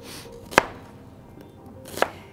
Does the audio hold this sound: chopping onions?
yes